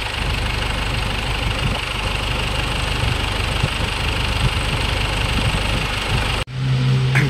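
Engine of a 2011 Ford Everest idling after repair work on the rocker arm and timing belt, a steady close rumble that cuts out briefly near the end and then resumes.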